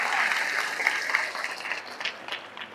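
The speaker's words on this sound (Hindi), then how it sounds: "ताली बजाओ, ताली बजाओ, ताली बजाओ." An audience claps in a room, a brief burst of scattered hand claps that starts fairly full and thins into irregular individual claps over a few seconds.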